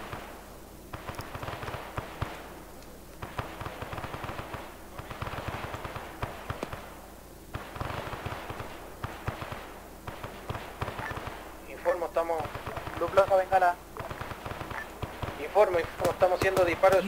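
Rapid bursts of suppressive gunfire in ArmA 3 repeat in clusters, steady and sustained, while players talk throughout.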